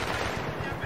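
Battlefield 3 multiplayer gunfire on the Bazaar map, a dense, steady stream of rapid shots blending into a continuous rattle throughout a short second-long burst.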